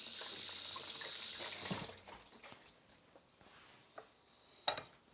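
Shredded potatoes squeezed in a cheesecloth for breakfast burritos release a steady splashing trickle of water, fading into a few scattered drips and small wet squishes near the end.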